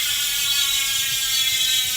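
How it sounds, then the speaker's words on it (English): A SPANK Hex Drive high-engagement rear bicycle hub freewheels with a loud, continuous, fast ratcheting buzz, steady and close throughout with no voices. "high engagement hubs just sound really cool"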